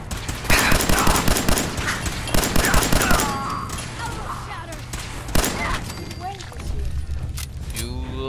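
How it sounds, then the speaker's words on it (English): Gunfire in Fallout 4 during combat, with dense bursts of shots in the first few seconds and further scattered shots later, mixed with game sounds while someone talks over it. "I'm being shot at!"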